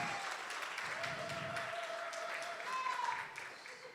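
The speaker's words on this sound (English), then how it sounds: "Envy, let's show her a round of applause" An audience applauds a returning singer at a religious-themed show, a steady moderate wash of clapping that swells slightly near the end, with a faint tone running underneath.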